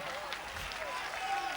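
Live concert audience applauding a stage hand in Sonnino, a steady wash of clapping from the crowd with voices mixed in.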